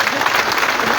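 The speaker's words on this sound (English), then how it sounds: "Give her another hand clap" An audience at a Ugandan public gathering gives a burst of hand clapping, a dense, loud wash of many hands filling a brief moment without a break.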